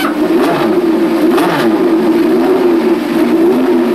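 An F2 racing car engine revs hard near its 10,000 rpm limit, holding a loud, steady high-pitched drone with slight rises and falls throughout.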